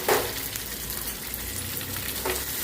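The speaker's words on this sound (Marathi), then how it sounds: "आता तेल गरम झालं की त्याच्यामध्ये आपण भरलेली भेंडी घालायची आणि फ्राय करायची" Stuffed okra (bhindi) frying in hot oil in a pan, a steady close sizzle with a couple of brief stirring scrapes, no voices.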